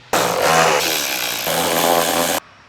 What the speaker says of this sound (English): we're going to loosen up the clamp on the throttle body, followed by loosening up the 3 bolts securing the top of the housing